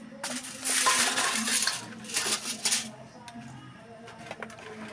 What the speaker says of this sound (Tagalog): Hugasan ko yung mga sandok.